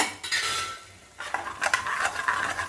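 Green chili, ginger and chili powder stirred in a pan over a low flame for a traditional narthangai pachadi, with metal utensil scrapes and clinks starting after a pause, close and moderately loud.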